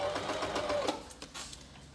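A Janome sewing machine stitches a fine hem with a hemming foot, giving a quick, steady mechanical whir with rapid needle ticks at close range and no voices.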